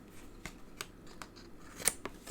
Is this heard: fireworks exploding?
no